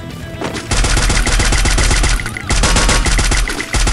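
Rapid automatic gunfire in the mobile battle-royale game Free Fire, loud and continuous in two long bursts separated by a brief gap, with no talking over it.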